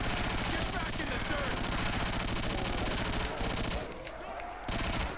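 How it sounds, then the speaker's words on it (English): Rapid gunfire from the Terminator gun in a Call of Duty zombies custom map, a dense continuous automatic rattle mixed with game sounds and a voice talking, briefly dropping out before resuming. "he can fire so rapid with his Terminator"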